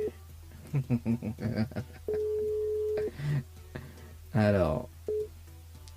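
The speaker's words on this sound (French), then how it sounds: "On rappelle Dorine sur le standard." A radio studio phone call to a listener: a burst of rapid dialing tones, then a long steady line tone and a repeating busy-type signal, with a presenter briefly speaking between tones.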